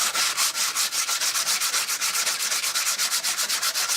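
Coarse-grit sanding along the rough edges of metal trailer side panels, a close, steady series of rapid back-and-forth rasping strokes in even rhythm, with no voices.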